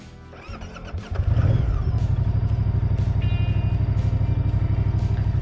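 2023 Moto Guzzi motorcycle engine cranking and catching, then settling into a loud, steady, rhythmic idle close by.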